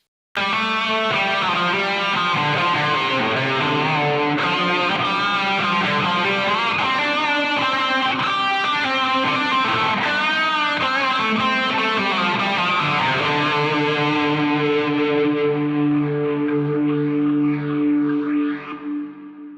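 An electric guitar through a wah pedal and phaser into a Marshall JCM 800 amp plays a sustained, swirling grunge melodic line with sweeping wah and phase effects and reverb, loud and alone, fading at the end.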